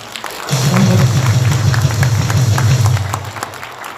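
Audience applause at a Korean political gathering for a group of YouTubers breaks out sharply after a brief pause. It is loud and steady, with a heavy low rumble, and continues evenly to the end.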